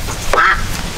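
Ducks around a house yard give a brief, fairly loud quack or two near the middle of a short moment, over a low outdoor background.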